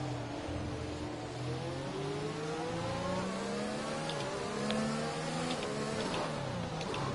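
A race car engine in a racing video game, on the Azerbaijan circuit, revs steadily, its pitch sweeping up and dropping through repeated gear changes, continuous and prominent with no talk over it.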